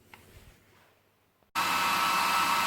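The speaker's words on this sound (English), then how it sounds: "The best is probably a hot air gun or just a blow dryer like this." A handheld hair blow dryer switches on abruptly to heat shrink tubing, then roars loud and steady without a break after a quiet stretch.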